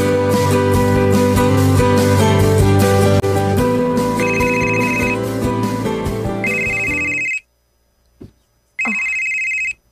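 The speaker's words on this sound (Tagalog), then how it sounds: "Ang akong cellphone." A cellphone rings loudly over steady music in a Filipino radio drama, its bright tone repeating in bursts before the music cuts out and the ring returns alone.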